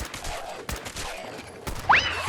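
Gunfire from the video game Fallout 4 comes as a few loud sharp bursts with a rising electronic whine near the end, heard over the game's background noise without speech.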